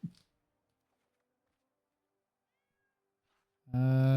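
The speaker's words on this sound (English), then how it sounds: "My cat." A cat gives a single loud, clear meow close by at the end, after a brief soft thump and a long stretch of near silence.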